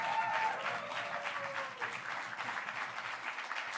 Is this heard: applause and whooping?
yes